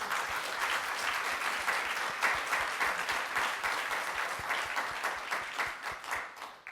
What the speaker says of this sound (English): Obadiah, I think that deserves a round of applause.